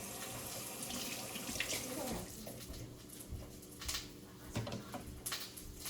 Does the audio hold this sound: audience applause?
no